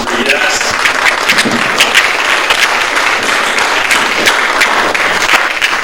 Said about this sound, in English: a big round of applause before we get into this one